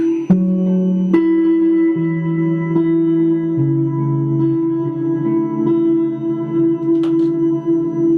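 Sustained electric guitar notes ring out with a spacious reverb wash, each plucked note blooming and lingering as the melody moves slowly.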